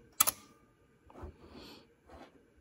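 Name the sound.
Canon F1 film camera shutter firing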